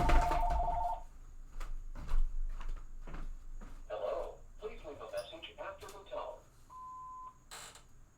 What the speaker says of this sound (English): Hold on, let me turn off the phone.